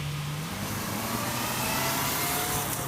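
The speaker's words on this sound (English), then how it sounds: "4-cylinder engine has a roaring intake howl and a melodious exhaust note." A 2021 Honda CB650R's four-cylinder engine accelerates in third gear, its pitch rising smoothly into a loud, continuous howl with a roaring intake and exhaust note.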